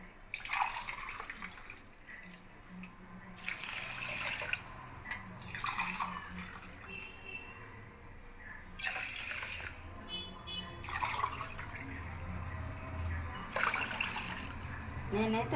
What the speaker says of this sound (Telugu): ఇప్పుడు దీంట్లో వాటర్ వేస్తున్నానండి